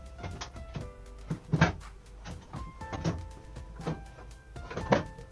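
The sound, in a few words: cabinet doors being opened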